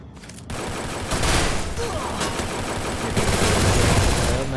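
Gunfire in the mobile shooter Free Fire crackles in rapid, dense bursts that grow louder partway through and keep on without a break.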